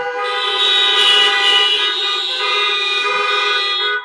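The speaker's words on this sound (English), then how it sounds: "Honk, if you agree." A loud, sustained car horn blares steadily for several seconds, close and continuous.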